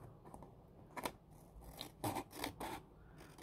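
Scissors cut through paper for a junk journal with a few short snips spread over a few seconds, close and fairly quiet against faint room noise.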